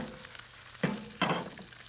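Seafood spiedino skewers fry in oil in a pan, a quiet continuous sizzle with two brief louder bursts as more oil hits the pan, nearby and without speech.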